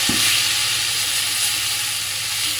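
Corn flour chila batter sizzles on a hot griddle over lowered gas, a steady close frying hiss with a brief soft clink at the start and no voices.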